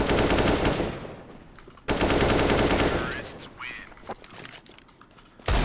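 Bursts of rapid automatic gunfire in Counter-Strike: Global Offensive rattle loudly in two long strings, with a brief sharp burst returning at the end and some murmured speech between.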